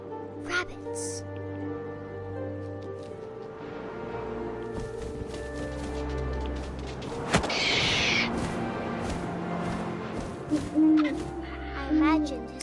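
Owl hooting in the video game What Remains of Edith Finch, a few soft hoots near the end over steady ambient game sound, with a voice present.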